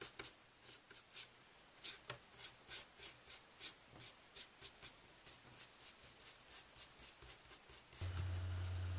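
Pencil scratching on paper while drawing and shading a pirate skull, in rhythmic back-and-forth strokes, close and soft, followed by a steady low hum at the end.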